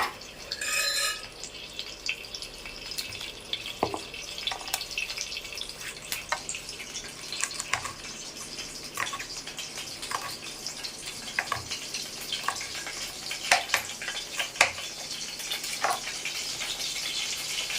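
Mustard seeds sizzle and pop in hot oil in a home kitchen, a steady crackling hiss with scattered sharp pops throughout, no talking.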